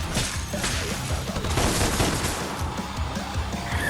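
Rapid fire from the Cupid weapon in DmC Devil May Cry, a loud, dense, continuous stream of shots with crashing impacts throughout.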